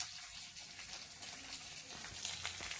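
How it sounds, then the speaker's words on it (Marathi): Cumin, coriander, green chillies and crushed garlic frying in hot oil for a rassa curry, a soft steady sizzle with light crackles that rises a little near the end, without any voices. "जिऱ्याची तेल टाकायचं, जिरे टाकायचे, कोथिंबीर टाकायची आणि मिरची, लसणाचा ठेचा टाकायचा आणि हे परतून घ्यायचं चांगलं"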